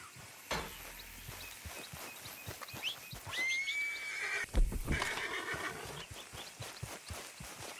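A horse in the Red Dead Redemption 2 video game whinnies loudly and clearly. Steady clip-clop hoofbeats keep a rhythm throughout, with a second sharp snort or neigh partway through.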